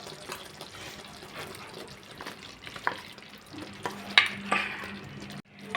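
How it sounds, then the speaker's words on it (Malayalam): Chopped gooseberries going into a boiling pickle mixture for gooseberry achar, a soft bubbling sizzle with scattered clinks and splashes as pieces drop in, close and fairly quiet. "ഇപ്പോൾ അത് നന്നായിട്ട് തിളച്ച് വന്നിട്ടുണ്ട് ഇതിലേക്ക് നമ്മൾ നേരത്തെ അരിഞ്ഞു വെച്ചിരിക്കുന്ന നെല്ലിക്ക"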